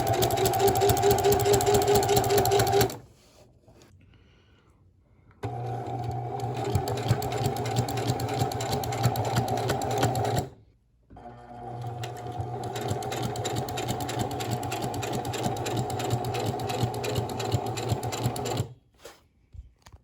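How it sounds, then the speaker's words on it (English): Sewing machine stitching together pieces of a new cover for 1990s headrests going into a 1936 Chevy coupe, running loud and steady in three long bursts with short quiet pauses between, no talking. "Now just to sew them together."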